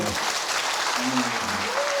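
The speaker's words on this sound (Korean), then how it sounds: "박수 한번 주시죠" Audience at a civic event with a city mayor applauding, a dense, steady wash of clapping throughout, with a voice speaking faintly underneath.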